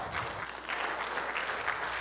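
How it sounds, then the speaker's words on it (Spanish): Faint, distant applause from a church congregation forms a soft, continuous wash of clapping that lasts only a moment. "Ese aplauso parece para mí."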